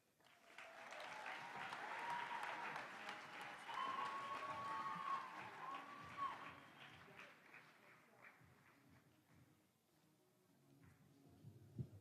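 An indoor student-athlete awards ceremony fills with a crowd's sustained applause, peaking early and slowly thinning into scattered claps, with a few whoops and murmurs near the end.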